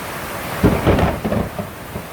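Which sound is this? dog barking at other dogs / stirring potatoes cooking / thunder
thunder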